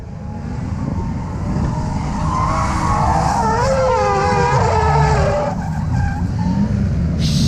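A drift car's tires squeal loudly in wavering, rising and falling screeches as it spins on a track, over a steady engine and road roar.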